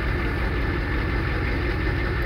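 A straight-piped 7.3 IDI diesel engine with a factory turbo idles in a loud, steady, deep rumble with a fast even pulsing throb, close and constant throughout, with no speech.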